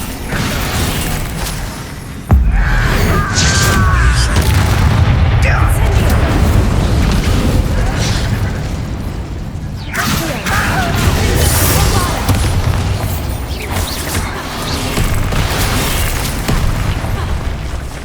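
Bombarda explosion spell in Hogwarts Legacy, a loud booming blast amid continuous spell-combat noise and rumbling effects, with voices shouting over the fight.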